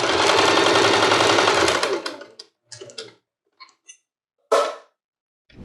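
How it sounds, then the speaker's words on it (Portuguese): A sewing machine stitches around the edge of a fabric placemat, running loud and steady at close range for about two seconds, then stopping and giving a few short stuttering bursts. "E agora a gente vai costurar aqui todo ao redor, deixando aqui 15 centímetros sem costurar"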